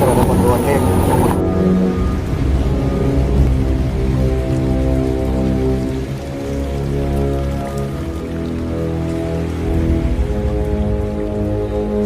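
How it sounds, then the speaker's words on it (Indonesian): Heavy rain pours onto house roofs, streets and low-lying land in Cirebon during a flood, a dense, steady hiss that runs throughout beneath a narrating voice and a sustained musical drone. "Awalnya hanya rintik, namun perlahan berubah menjadi deras, menghantam atap rumah, jalanan, dan lahan-lahan rendah di wilayah Cirebon."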